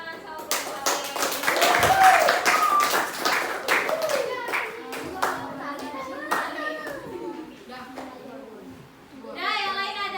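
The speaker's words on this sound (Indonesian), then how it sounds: "Kasih tepuk tangan sama guru." A classroom of schoolchildren claps for their teacher in a burst of lively clapping with children's voices mixed in, fading into scattered claps and then talk.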